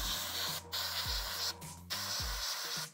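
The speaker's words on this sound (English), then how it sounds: "Okay, let's try spraying that again." An aerosol sprays paint onto a miniature Adeptus Titanicus Warlord Battle Titan model in a steady, close, loud hiss broken by two or three brief pauses, with a low hum underneath.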